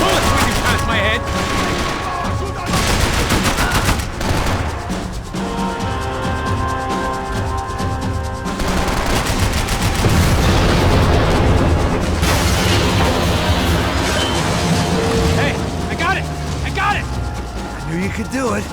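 Gunfire in the video game Max Payne 3: rapid bursts and single shots with booming impacts and mechanical clatter, loud and dense, mixed with shouting voices over a steady battle backdrop.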